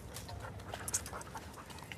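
Several dogs pant in quick, breathy bursts at close range, with faint whimpers mixed into steady outdoor background noise and no talking.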